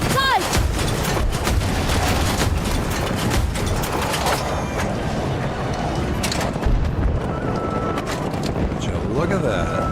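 Dense incoming gunfire from the left side, a sustained fusillade of overlapping shots and booms throughout, loud and continuous, with voices shouting amid the firing.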